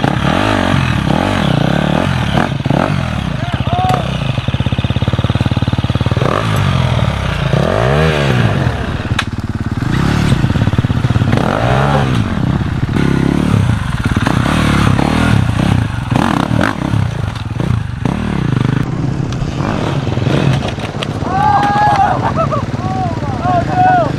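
An enduro motorcycle ridden hard with the throttle wide open, its engine revving and rising in repeated surges, loud and close, with clattering from rough terrain and voices calling out over it.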